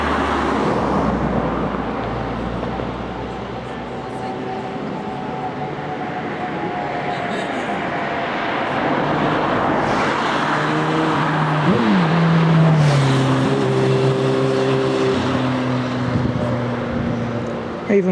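Continuous road traffic near a church on a countryside walk, a loud steady roar of passing cars with engines swelling and fading, voices talking over it.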